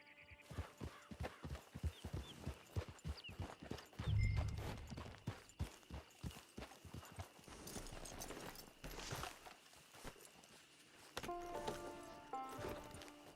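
A horse's hooves clip-clop in Red Dead Online, a steady, even walking rhythm of distinct hoofbeats with a brief heavy thump partway, the pace continuing before a muffled pause and faint game sounds.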